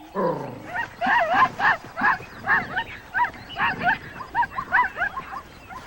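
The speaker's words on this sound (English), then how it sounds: "the wild dogs are prepared to move" African wild dogs give a rapid series of close, high twittering chirps and yelps in a bouncy, repeated rhythm, opening with one descending whine.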